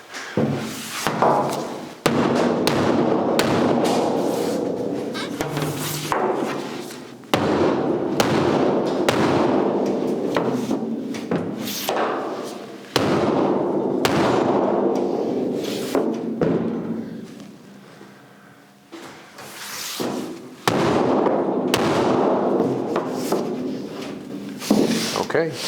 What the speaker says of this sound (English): Using the mass of the hammer to do the work.